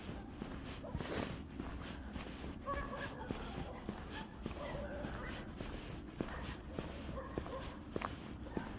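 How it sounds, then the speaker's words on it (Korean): A dog barks a few times at some distance outdoors, the barks mixed with footsteps, shuffling and low background noise. "개가 짖어가지고 뭔 얘기를 할 수가 없어."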